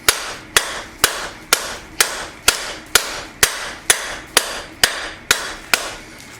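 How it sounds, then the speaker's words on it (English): Blacksmith hammering notches into a hot steel knife blank, a steady run of about thirteen sharp, ringing metal strikes spaced roughly half a second apart, loud and close, each followed by a brief decaying ring. "What I'm going to do is I'm going to hit it in on notches."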